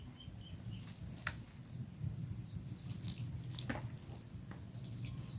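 Clean water poured steadily into a cooking pot for a sour vegetable dish with buffalo feet, a continuous splashing trickle close by, with faint birdsong in the background and no talking.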